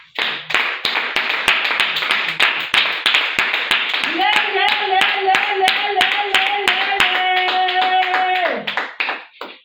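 A church congregation claps and cheers to acclaim the Lord, with rapid scattered hand claps giving way to sustained cheering and ululating voices over continued clapping, fairly close and lively.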